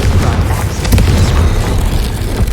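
Confringo blasting spell exploding in the game Hogwarts Legacy, a loud booming rumble with crackling bursts that fills the whole stretch without a break.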